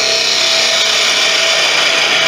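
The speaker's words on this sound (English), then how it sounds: "now I want to get in there with a detail gouge to get rid of a load of this" Steady scraping and cutting of a detail gouge against spinning wood on a lathe, turning a small wand close to the chuck; a continuous, loud, even rasp with a faint motor hum beneath, no talking.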